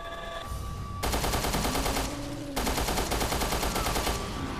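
Rapid automatic gunfire in the survival-horror video game Resident Evil Revelations 2, in a slaughterhouse area, dense bursts filling most of the clip with a short lull midway, loud and close with no talk over it.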